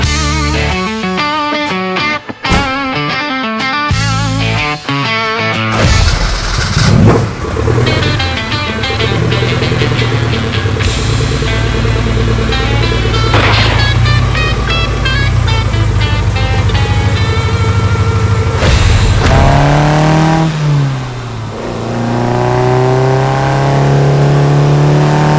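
An Alfa Romeo Giulia engine revs hard while driving and shifting through manual gears without power steering, loud and close. The tone climbs repeatedly, with sharp breaks at each shift and a strained rising whine near the end.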